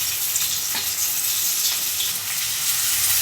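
Curry leaves and a little coriander sizzle steadily in a pan with ginger-garlic paste for chole masala curry, a close, continuous crackling fry with occasional stirring and no voices.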